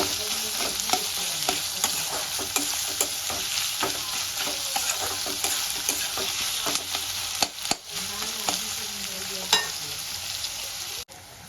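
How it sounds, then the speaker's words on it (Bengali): Sliced onions frying in a pan while being stirred toward light brown, a constant close sizzle with frequent spatula scrapes and taps, one louder knock near the end. "এবার আমি এটাকে হালকা ব্রাউন করে ভেজে দেব"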